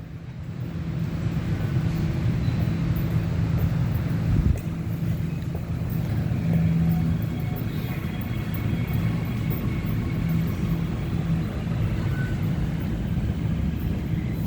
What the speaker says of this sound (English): We have the Bombardier Movia thing. The motor, I mean.